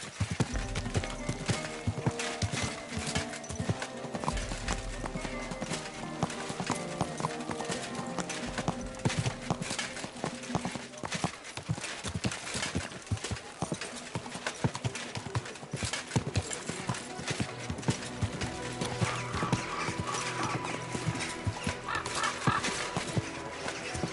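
Horse hooves clip-clop in a steady walking rhythm in the medieval video game Kingdom Come: Deliverance 2, close and continuous, with soft snorts and faint background ambience.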